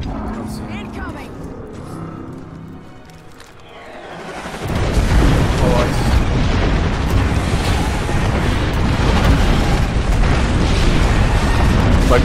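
Airstrike in an Apex Legends match: after a quieter stretch, a dense barrage of explosions erupts and rumbles on continuously, loud and booming, with players talking over it.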